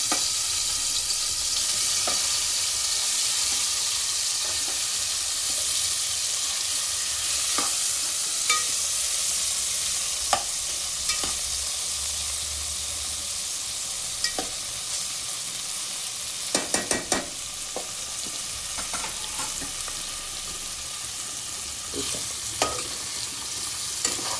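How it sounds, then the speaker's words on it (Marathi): Paneer frying in hot oil for a vegetable biryani, a steady, dense sizzle that carries on unbroken at even loudness, with scattered sharp pops and a brief cluster of crackles partway through, close up and with no talk. "आता पनीर तळून घेते पनीर टाकताना जरा हळू टाका"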